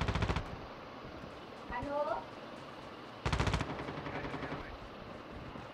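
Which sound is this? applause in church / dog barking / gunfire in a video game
gunfire in a video game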